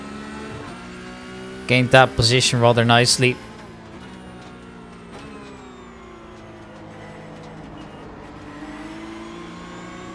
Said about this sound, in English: Number 12 Bilstein car